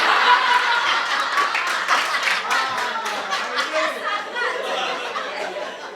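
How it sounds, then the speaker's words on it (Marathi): An audience at a live stage show claps in a dense, sustained burst of applause, with chatter and light laughter mixed in, the clapping fading slightly toward the end. "तिकडं मागं अशा टाळ्या वाजल्यात बरं का, उंच करून."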